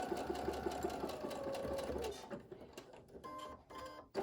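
A sewing machine stitches a cloth face mask seam, running in a steady rapid mechanical rhythm, then pausing and restarting in shorter bursts as it sews forward and back, close and clear.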